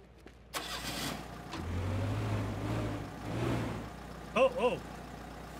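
Vehicle engine starting in the Teardown video game: a cranking burst, then a steady low engine hum for a couple of seconds, with short tonal chirps near the end.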